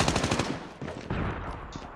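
Rapid automatic gunfire in Call of Duty Mobile, a couple of quick rattling bursts of close, sharp shots over about two seconds, with no talking.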